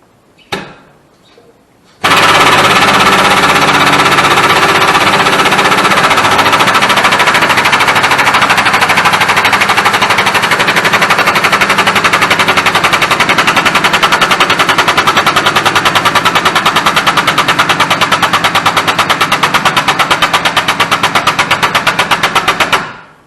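Air-powered 20-ton jack pipe bender driven by an air compressor: after a couple of faint knocks, a loud, rapid continuous pneumatic hammering starts abruptly and runs steadily for about twenty seconds before cutting off.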